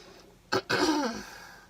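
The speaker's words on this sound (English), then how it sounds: "I heard him cough." A single harsh throat-clearing cough, two sharp bursts close together, near and fairly loud, trailing off into quiet.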